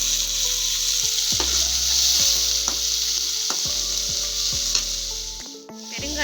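Small and big onions frying with mustard seeds in oil for toor dal usili, a loud, steady sizzle under repeated spatula scrapes and knocks against the pan, with no talking.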